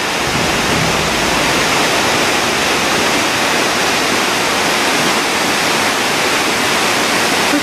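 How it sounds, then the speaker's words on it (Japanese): The Shirahige waterfall at Shirogane Onsen pours in a loud, constant broadband roar of rushing water with no break or change. "立派な滝と言っていいでしょうか。"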